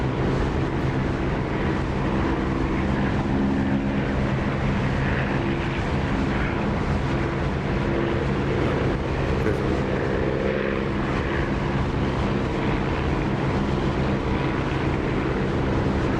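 Steady propeller aircraft engine drone heard with the canopy open in the DCS flight simulator game, a loud continuous rumbling roar with wind rush, unbroken for the whole stretch and with no talking.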